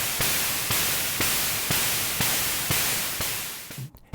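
Synthesizer noise burst imitating a snare drum, repeated as seven evenly spaced, elongated hisses that each decay slowly, loud and broadband, ending in a short quiet tail.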